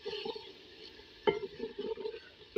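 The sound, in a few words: stirring Bengali aloo ghati (potato dish) in a pan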